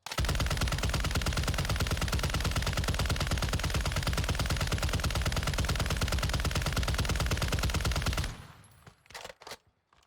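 A RAAL MG light machine gun in a video game fires a long unbroken burst through a 75-round magazine, loud dense automatic fire for about eight seconds before it stops, followed by a few faint clicks.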